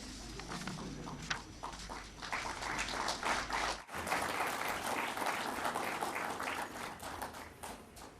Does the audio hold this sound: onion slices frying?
no